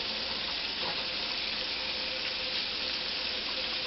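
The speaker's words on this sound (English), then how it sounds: "let me wash my hands." Kitchen tap water runs steadily into a sink for a few seconds as hands are washed, a soft, even hiss with no speech.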